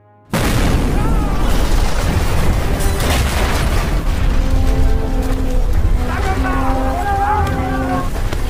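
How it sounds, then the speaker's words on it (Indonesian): A loud, deep boom from a nuclear reactor unit exploding in a film erupts and rolls on as a sustained rumbling roar, with tonal droning and higher whining tones rising above it toward the end. "Tiba-tiba mesin nuklir unit 3 meledak."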